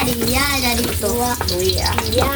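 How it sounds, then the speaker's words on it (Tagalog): Ginger sizzles loudly in a hot pan as chicken liver adobo begins cooking. A steady frying hiss runs throughout under a man's close, clear talking. "So, magisa na tayo mga idol."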